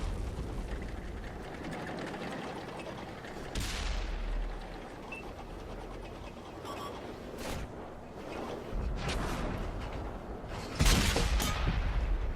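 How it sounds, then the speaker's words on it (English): Rapid gunfire from a video game with the RONIN 47R rifle, shots striking a rock just in front, sharp bursts cutting through a busy, dense game mix of crackling effects and booms. "That was me shooting the rock in front of me."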